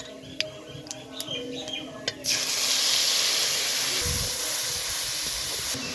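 Cumin seeds and a spice paste hit hot oil: faint clicks and ticks give way to a sudden loud, hissing sizzle that holds steady to the end.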